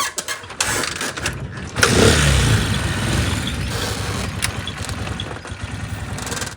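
Motorcycle engine kick-started on a rural farm outing, catching after about two seconds and then running at a steady, loud, close idle with a rough mechanical rumble.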